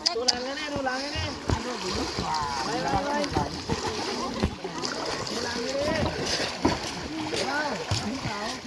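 Children bathing and playing in water, with repeated splashing and sloshing close by under constant excited voices and chatter.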